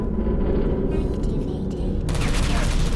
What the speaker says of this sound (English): And I can get shot at on that side.